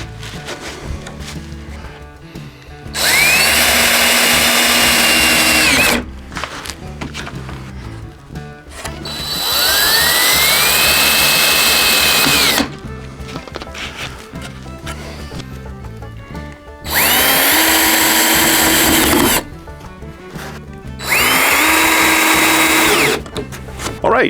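A power drill drives screws through a wooden cleat into a model railroad layout table in four loud whirring bursts, each rising in pitch as the screw sinks, with quiet pauses and handling noise between them.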